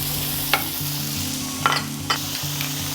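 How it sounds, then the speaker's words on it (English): Shrimp fry in hot oil with a continuous loud close sizzle and crackle, punctuated by a few brief utensil scrapes and taps, no voices present. "fry the shrimp in oil"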